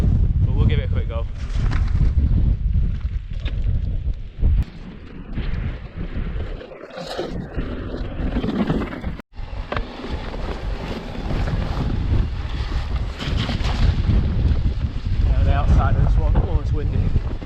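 Heavy wind buffets the microphone in loud, continuous rumbling gusts on a quarry mountain bike trail, with brief dropouts and faint voices partly buried beneath the roar.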